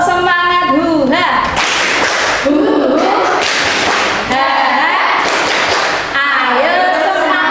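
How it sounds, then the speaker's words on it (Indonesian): A classroom of children performs a rhythmic spirit clap routine in bursts of sharp, loud group claps, alternating with a voice and children's chanting between the clapping phrases. "Tepuk semangat ya, tepuk semangat Buddha"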